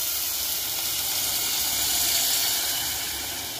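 About two cups of water hit toasted spices in a hot pot, a steady bright hiss and sizzle rising slightly, then easing toward the end.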